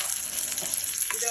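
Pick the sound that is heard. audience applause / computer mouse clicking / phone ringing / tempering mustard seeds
tempering mustard seeds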